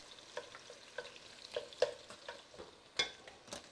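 Onions and garlic fry quietly for a homemade pizza sauce, a faint sizzle broken by scattered clicks and light spatters from the pan.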